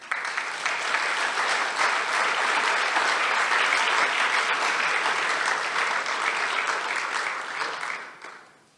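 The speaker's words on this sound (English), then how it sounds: "So please, a big applause also for the speaker." Conference audience at Voxxed Days Trieste 2022 applauding a speaker, a dense, steady wash of clapping that holds loud for about eight seconds before tapering off quickly at the end.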